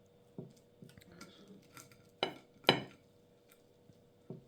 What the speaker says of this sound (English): Sorry for you guys hearing the scraping and all that type of stuff.